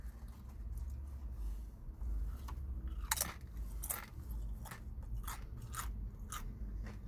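Crunchy Chipotle food being chewed close to the mic, a series of crisp, sharp crunching bites at irregular intervals over quiet background.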